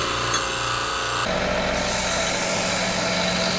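Wood lathe spinning a wood and resin inlay bowl while the tool slowly cuts down to expose the resin: a continuous, even motor hum with a scraping cutting texture that shifts in tone partway through.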